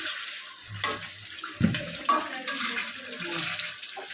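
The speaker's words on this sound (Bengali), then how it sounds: "কষাইয়ে ঝোল দিয়ে দিতেছি।" Broth being poured into a pan of sautéed fish curry (fish bhuna), a splashing liquid pour with a few bumps and clatters, moderately close, with no talking.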